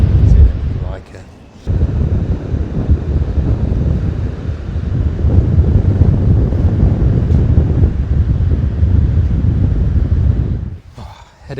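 Heavy wind buffets the microphone over the steady low roar of a powerful Icelandic waterfall, continuous and loud with brief drops where the gusts ease.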